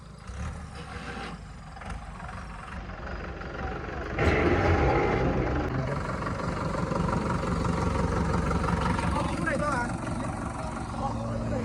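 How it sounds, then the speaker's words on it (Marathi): A tractor engine idles steadily at a farm field after dark, a low rumbling drone that swells louder partway through and holds, with voices nearby. "तर मित्रांनो आता ट्रॅक्टर आलेलं आहे आणि आता अंदाज झाल्यामुळे काही दिसत नाही."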